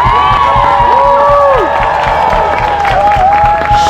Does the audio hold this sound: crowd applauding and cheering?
yes